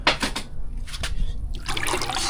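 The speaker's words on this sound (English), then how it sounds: "You go ahead and pour that in there" Liquid is poured into a shallow bucket holding a few inches of water during dirt bike oil change maintenance, making a close trickling, splashing pour with brief pauses.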